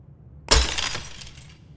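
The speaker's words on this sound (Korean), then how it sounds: "어떻게 꺼낸담? 망치로 부숴야겠죠." A single sharp smash as a hammer breaks a piece in a horror puzzle game, a bright glassy shatter with scattering fragments that rings out briefly and fades, with no talking.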